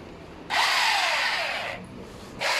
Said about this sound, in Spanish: Vamos a retirar la cabeza de este motor.